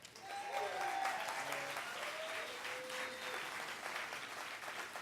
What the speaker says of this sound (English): big round of applause for Jesse Wursel